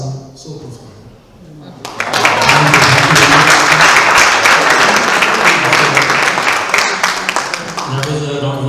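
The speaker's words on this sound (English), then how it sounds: "That was a round of applause for Mubarak" After a quiet opening, an audience at a book and magazine launch event breaks into loud, sustained applause, a thick roar of clapping that holds for several seconds and only eases slightly toward the end.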